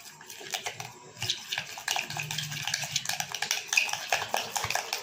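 Mayonnaise with black pepper and salt stirred in a bowl with a spoon, producing soft wet squelching and light clinks of metal against the dish, fairly quiet and close with no talking.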